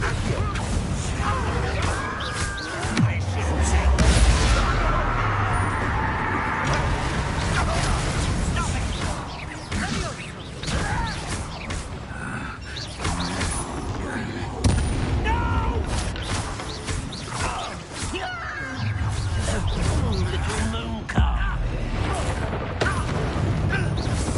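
A Confringo fire-explosion spell cast in the Hogwarts Legacy video game bursts with a loud boom amid a busy, dense mix of game effects and crashes, with a character's voice speaking over parts of the scene.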